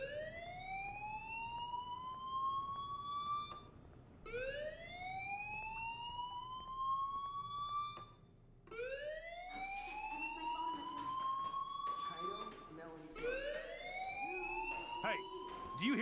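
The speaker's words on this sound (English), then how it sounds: "do you hear that fire alarm?" Fire alarm in the video game Life is Strange Remastered, a loud rising electronic siren-like whoop that sweeps upward in repeated cycles about every four seconds, with faint background sounds under it and no talking.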